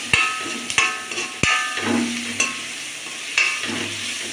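Upma mixture being sautéed in a pan, with a spoon scraping and stirring through a soft sizzle; sharp clacks of the utensil against the pan ring out irregularly, close and unaccompanied by talk.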